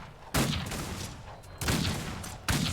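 Three loud, close gunshots ring out in the Western game Outlaws of the Old West, each a sharp blast followed by a short decaying echo, spaced about a second apart.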